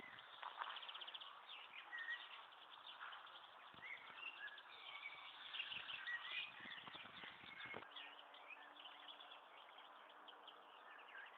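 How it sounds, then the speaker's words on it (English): Busy birdsong in the English countryside of Dedham Vale, several birds chirping and trilling at once, fairly faint against a quiet outdoor background. "Plenty of birdsong here."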